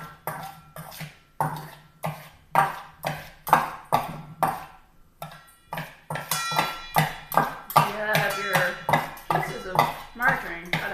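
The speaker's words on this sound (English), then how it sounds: "that metal on metal sound is making a nice little ringing like a bell here" Metal knives strike a metal bowl in a steady rhythm, cutting margarine into crumbs, each hit leaving a bright bell-like ring, with quiet talk underneath.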